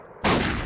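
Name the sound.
gunshot sound effect played from a mixer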